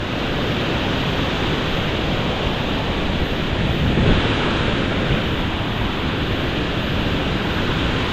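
Rushing river water at Hogenakkal waterfalls, a loud, steady broadband roar of tumbling falls that holds constant throughout with no talking.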